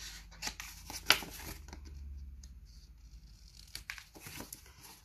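Paper is cut with scissors, a few close snips and crinkling rustles against a quiet background, with one sharper snip near the start.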